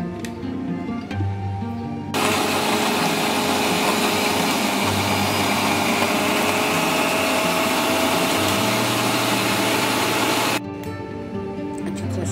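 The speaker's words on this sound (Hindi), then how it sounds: "सबको अच्छी तरह से हम मिक्सर ग्राइंड" A mixer grinder runs loud and steady for about eight seconds, blending juice ingredients with sugar and a little water for a multivitamin summer drink, with quieter kitchen hum before and after.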